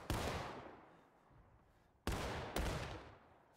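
Musket volleys crack out in the Civil War game War of Rights, three sharp loud blasts, one at the start and two close together later, each trailing off in a long rolling echo.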